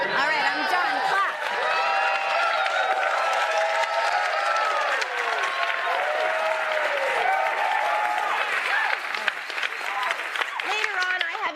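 A TV comedy studio audience breaks into sustained applause mixed with whoops and cheering voices, dense and close throughout.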